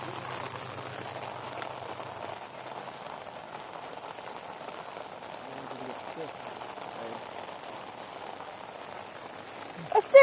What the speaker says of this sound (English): Ooh, look at all that rain.